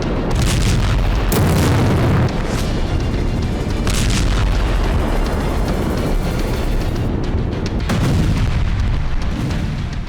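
Ammunition depot blown up in the Russia-Ukraine war, a series of heavy booming blasts with deep rumbling that rolls on continuously between the louder bursts, loud and dense throughout.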